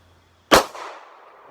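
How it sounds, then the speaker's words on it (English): A single sharp gunshot from a Smith & Wesson M&P BodyGuard 380 pistol firing a 95-grain jacketed round-nose load at an outdoor target, loud and close, with a short decaying echo. "I'm going to shoot the green target there"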